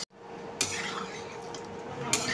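Onions being stirred in a cooking pot for a village-style mutton dish, with a utensil scraping and clinking against the metal and a soft sizzle underneath, close and moderately loud.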